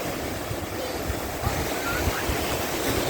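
Sea waves wash onto the crowded Vidrada beach in Odesa on a warm late-summer day, a continuous near surf hiss with soft breaking swells, light wind buffeting on the microphone and faint murmur of people.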